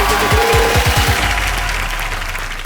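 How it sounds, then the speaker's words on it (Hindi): A TV comedy show studio audience gives a short burst of loud applause, mixed with a low rhythmic thumping and crowd noise. "ताली बजा दे"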